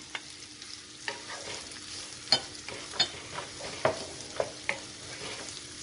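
Onions and peppers sizzle in melted butter in a pan, a soft steady fry punctuated by sharp scraping stirs every half second or so, close and clear with no talking.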